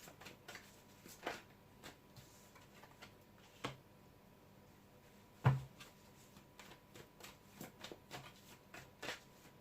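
Tarot cards being shuffled and handled, heard as soft, scattered riffling and tapping bursts with a sharper snap near the middle, faint and close with no talking.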